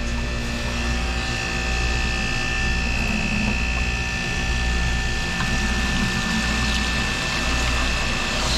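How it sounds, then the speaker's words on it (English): Water from a garden hose rushes through the water lines of a water-cooled refrigerator, a loud, steady hiss and pump-like drone with constant hum tones throughout. "try to flush out the system as there are garden hose connections on the water lines"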